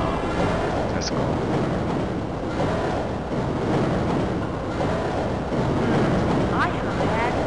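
A train rumbles in the Half-Life: Azure Sheep video game as a continuous heavy rolling roar with faint metallic squeals over it, steady and close throughout.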